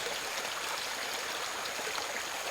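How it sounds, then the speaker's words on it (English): A babbling brook in the Cook Islands runs over rocks in a steady, close hiss of flowing and splashing water, with no one speaking. "You can see here we have a very nice babbling brook."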